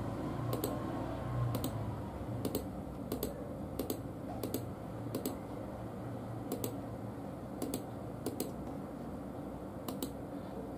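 A password is typed on a computer keyboard, a dozen or so separate soft key clicks spaced out irregularly over a quiet room hum.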